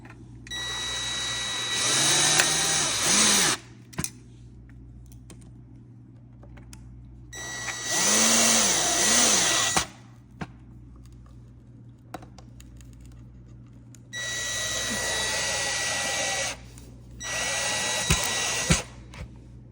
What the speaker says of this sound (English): All the E screws in. Gently just gonna screw them.